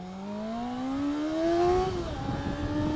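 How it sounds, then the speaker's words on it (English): A car passes close by on a road in Australia, its engine note climbing loudly as it approaches, then dropping sharply in pitch as it goes past and recedes. "Hey, we got traffic coming."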